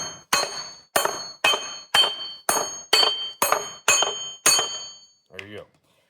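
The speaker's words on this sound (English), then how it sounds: "You're gonna get yourself a hammer, whichever kind you like" A hammer knocks lug studs out of a Kawasaki 4010 Mule hub set on 2x6 boards, eight sharp ringing metallic strikes at a steady pace, close by, followed by a brief short voice.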